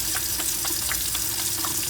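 Warm running water from a tap splashes steadily while hands are washed with soap, a continuous close hiss with small irregular splatters throughout and no speech.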